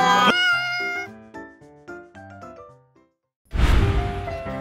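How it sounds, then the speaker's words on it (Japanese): A cat meows within a gaming stream, its call sounding alone and fairly loud near the end after a stretch of tonal game music and a brief silence. "お、猫や。"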